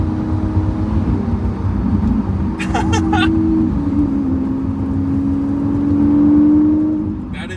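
An Audi S5 accelerates hard on the open road, a steady engine drone heard from inside the cabin that rises in pitch, with people talking over it.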